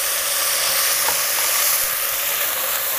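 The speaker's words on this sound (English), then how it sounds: "And we stir briskly" Rice briskly stirred with salt in a pan of hot ghee and oil, a loud steady sizzle and hiss with faint scraping of the stirring throughout.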